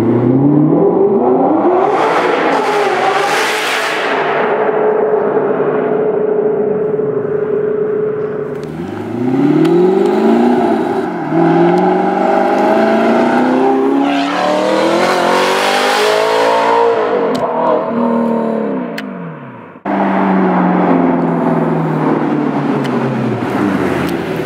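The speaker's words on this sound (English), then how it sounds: "coming back through the tunnel just to get a drive-by" A manual sports car drives through a tunnel, its engine revving up through gears in loud echoing sweeps, passing close with a rising then falling roar and repeated pulls, booming off the tunnel walls.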